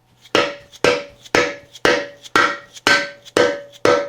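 Hammer blows on the inner lip of a bearing being driven out of a Honda K-series transmission case, eight sharp metallic whacks in a steady rhythm about half a second apart, close and loud, with faint ringing after each.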